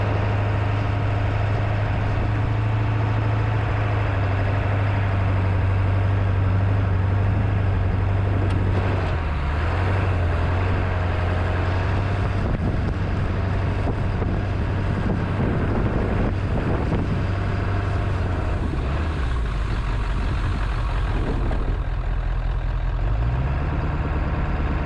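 A Ford 7.3 Powerstroke truck plows through heavy snow drifts, its diesel engine droning steadily and loudly throughout under constant wind buffeting, with the pitch dipping briefly near the end.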